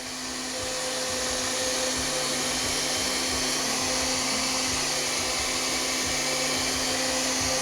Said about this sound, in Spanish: Le voy a dar un ratito más a la licuadora para que se vayan todos los pedacitos de la espinaca.